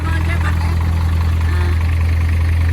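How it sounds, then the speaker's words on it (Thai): A pickup truck engine idles steadily with a constant low hum and throb, close by and unchanging throughout. "อะตอนนี้ก็สตาร์ทแล้วนะคะก็ฟังถึงเครื่องยนต์กันก่อนเลยนะคะ"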